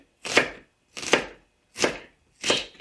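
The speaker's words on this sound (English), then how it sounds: "And here is the shallot. And then I will cut it into." A knife chops through a shallot on a board in a Cambodian countryside kitchen, four crisp, evenly spaced strokes, close and clear with no talk.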